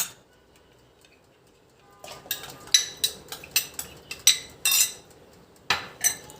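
A sweet potato and starch mixture is stirred in a bowl: after a quiet start, a spoon raps the sides in a dozen or so crisp, uneven clinks, close and clear, with no talking.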